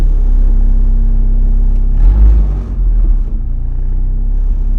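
A turbocharged Honda K-series engine swapped into a 1966 Ford Mustang idles with a deep steady rumble, swelling into a short blip of revs midway before settling back.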